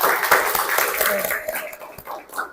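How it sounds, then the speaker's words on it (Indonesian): Short burst of classroom applause for a student during a lesson, a dense patter of clapping hands up close that fades within a couple of seconds, mixed with some voices. "Beri tepuk tangan untuk Marsha."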